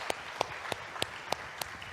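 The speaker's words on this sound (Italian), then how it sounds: "Applauso." A small audience at an Italian talk by a singer claps sparsely, six distinct evenly spaced claps over two seconds, fairly faint against a quiet room.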